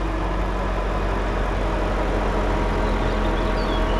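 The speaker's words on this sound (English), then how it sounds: "Let me start up the car. Listen to that. It sounds like a Honda V8." The V8 engine of a 2001–2006 Jaguar XK8/XKR idles steadily nearby, a low, even rumble with a smooth mechanical hum and no voices.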